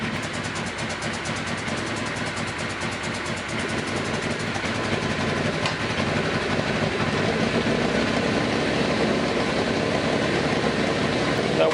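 A Suzuki GS850 motorcycle engine, running on pod filters with unsynced carbs and an intake leak, idles steadily after starting, a close, continuous rumble with fast even pulses and no talking.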